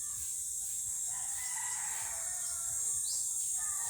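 Chickens cluck and a rooster crows amid outdoor farmyard noise, with steady background hiss throughout.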